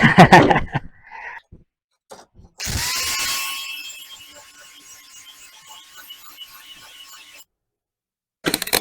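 A manual planishing hammer rapidly hammers a 1960 Chevy Biscayne roof panel in short bursts, with a ringing metallic tone and brief pauses between runs.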